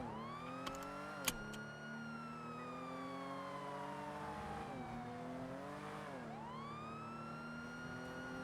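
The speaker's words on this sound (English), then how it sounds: "I heard a truck." A truck drives by in the GTA NoPixel video game, its engine whining and rising and falling in pitch as it revs steadily, with a few sharp clicks near the start.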